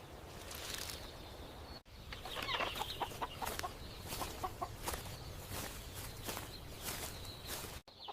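Chickens clucking on a farm in the morning, with soft rooster-like calls and scratchy footstep sounds in a steady, fairly close barnyard background, no talking.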